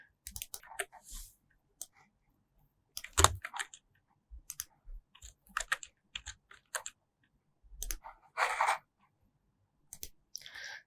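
Scattered clicks from a computer mouse at a desk during a web programming session, sharp isolated taps coming in irregular bursts with short quiet gaps between them, close and fairly faint.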